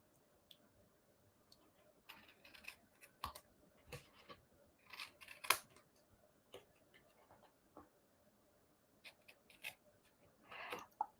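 Scissors cut off paper scraps for quilling, close to the microphone, in a series of sharp snips and rustles spread unevenly over several seconds in an otherwise quiet room.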